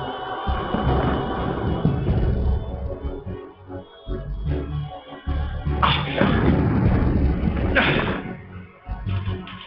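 Distant battle rumble from attacking Outlanders in the video game Enclave, a continuous rolling low thunder with dull booms and thuds that swells loudest mid-clip.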